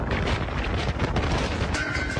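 Strong wind of an August storm in Mecca, with lightning striking the Royal Clock Tower: a loud, continuous broadband roar and buffeting gusts that stay steady throughout, with no voices.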